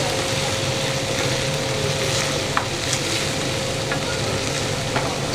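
Chinese-style samosa filling with coriander leaves is mixed in a pan after the gas is switched off, giving a steady soft scraping sizzle with a few faint clicks throughout.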